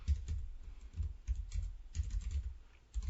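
Keys clatter in uneven bursts of typing on a computer keyboard, close and moderately quiet, with brief pauses between flurries.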